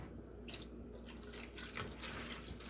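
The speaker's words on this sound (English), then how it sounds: "Now add water." Water running from a tap into a bowl for cake batter, a faint, steady splashing trickle with a few brief louder pours, without talk.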